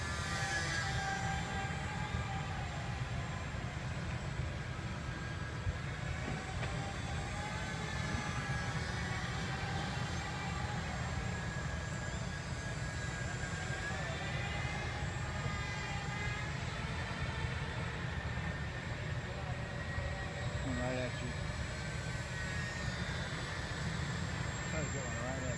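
An RC model airplane engine under throttle inside a golf dome, a continuous steady buzzing drone that holds fairly level throughout, with people talking over it.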